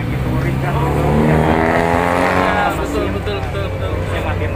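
The air-cooled engine of a 1973 VW Kombi panel van idling nearby, a steady rumbling hum that swells slightly midway and then settles, with a voice speaking over it.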